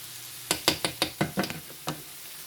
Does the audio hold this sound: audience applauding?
no